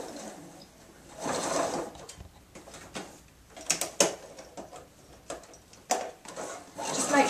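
A sewing machine stitches around the edge of a fabric apron in short bursts of whirring, starting and stopping, with handling noises between runs.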